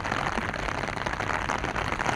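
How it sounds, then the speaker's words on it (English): Heavy evening rain pouring down in Nairobi city, a dense, steady hiss of drops hitting surfaces with no break, close and even throughout. "It's raining guys"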